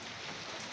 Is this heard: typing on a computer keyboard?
no